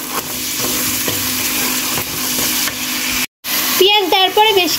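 Chopped onion frying with turmeric in a pan for red amaranth greens: a loud, steady, close sizzle that cuts out briefly, then comes back under a few seconds of talking.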